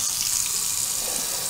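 Tap water runs steadily into a bathroom sink fitted with a new pop-up drain, a close, continuous bright splashing hiss with no talking.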